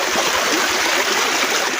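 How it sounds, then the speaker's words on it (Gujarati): Water rushing along a hillside stream in a village countryside, a steady broadband wash that holds the same close, loud level the whole time with no voices. "આ પોણી જાય છે ને આપણે ડુંગરામાં પોણી આવી હોય ને સારું લાગ્યું."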